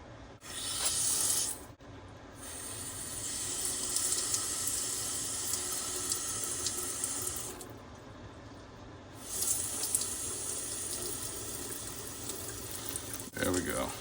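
Water sprays hard from a leaking pipe as the supply pressure drops, a steady close hiss that surges and eases over the whole stretch, with people talking faintly over it.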